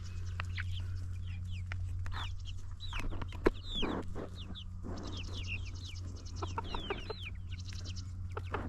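Easter egger and olive egger chickens cluck in short, rising calls repeated through the flock, with other birds chirping over a steady low farm hum and no talk.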